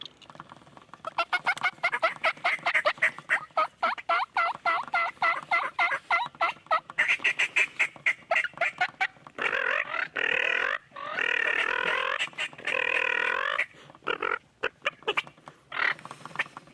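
A big dominant wild turkey gobbler strutting in an orange grove during spring, giving loud, close, repeated rattling gobbles and throaty calls in rapid bursts, with no talking.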